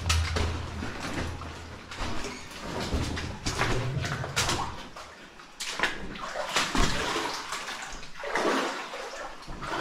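Water runs and splashes continuously inside a partially collapsed mine shaft, a steady close rushing with changing surges and some clattering, and no voices.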